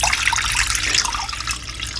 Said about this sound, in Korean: 아까 계량한 물을 부을게요